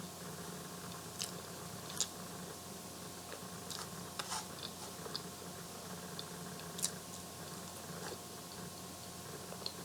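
Someone eating french fries with their fingers during a mukbang, with soft chewing and scattered crisp bites close to the mic over a steady low room hum, no talking.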